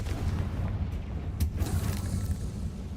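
The Confringo fire spell in Hogwarts Legacy goes off as a deep, rumbling game explosion with a sharp burst in the middle, set over a low continuous rumble and no talking.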